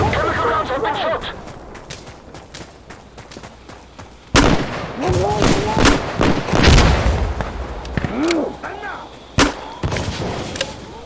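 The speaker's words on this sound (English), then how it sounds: "Chemical rounds have been shot." In the game Insurgency Sandstorm, chemical artillery rounds land as a series of heavy booms and sharp blasts. They come loud and irregular after a quieter start, with players talking over them.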